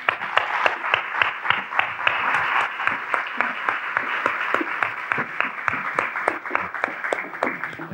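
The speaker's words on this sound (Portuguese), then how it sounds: "Lídia Jorge, uma salva de palmas, por favor." An audience claps to welcome a guest to the stage at a literary talk event, a steady run of sustained applause with sharp individual claps standing out, moderately loud throughout.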